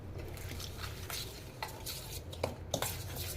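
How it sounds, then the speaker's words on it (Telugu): A spoon mixes sugar and milk into a thick paste in a bowl, giving a steady scraping, sloshing stir with a few sharper clinks against the side. It sits close and fairly loud, with no talking. "థిక్ పేస్ట్ అయ్యేంత వరకు మిక్స్ చేయండి."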